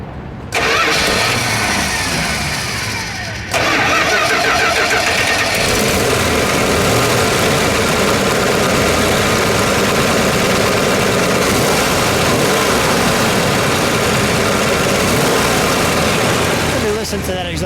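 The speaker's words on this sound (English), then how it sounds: "and just seeing 426 Hemi. Let's fire it up." A 1969 Dodge Charger Daytona with a 426 Hemi cranks for a few seconds, catches with a loud roar, then settles into a steady, rumbling idle close by.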